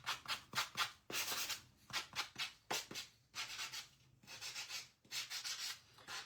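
Sanding craft cutouts smooth: repeated rasping sandpaper strokes come in short bursts and longer rubs, close and fairly loud, with brief pauses between passes and no voices.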